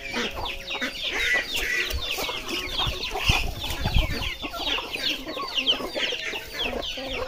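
A flock of chickens clucks busily at feeding time on a rural provincial farm, with dense, overlapping calls close by and continuous throughout, and no talking.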